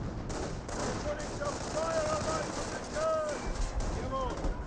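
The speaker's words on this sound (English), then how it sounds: "Grenadiers firing away" Wehrmacht Grenadiers firing rifles in a Company of Heroes battle, a steady patter of mid-distance gunshots and bursts over a rumbling battlefield bed, with a commentator talking throughout.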